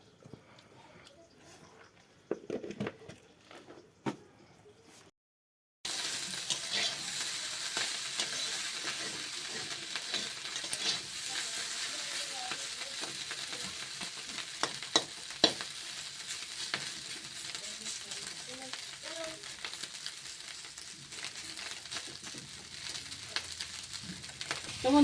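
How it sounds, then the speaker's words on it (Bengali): Dried fish frying in oil, a low steady sizzle with occasional pops and crackles that starts after a few quiet seconds of faint handling noises, with no speech over it. "তো মাছটা আমার বন্ধুরা শুকনো মাছটা ভাজা হয়ে গেছে।"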